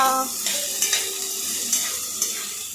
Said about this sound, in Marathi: तेलामध्ये चांगला कांदा मुरून घ्यायचा आहे ना.